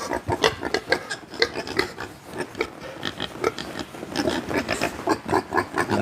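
Mangalitsa pigs in a barn, grunting and snuffling steadily at close range, with scuffing and rubbing sounds mixed in throughout.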